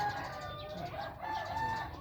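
Hens and a rooster vocalising close by, with overlapping clucks and calls over faint background noise.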